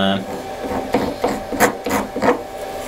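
Someone scrapes a rubber magnet being cut down for tweeter use, making about five rhythmic rasping strokes, each a short, close, gritty scrape, with a faint voice at the very start.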